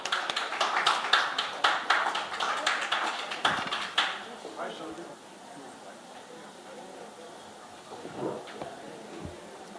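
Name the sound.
audience applause welcoming speaker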